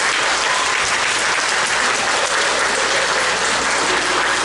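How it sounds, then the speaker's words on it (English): A large audience gives Little Miss Pocomoke pageant contestants a loud, dense round of applause that holds steady throughout, with no breaks or voices. "Let's give them all another big round of applause."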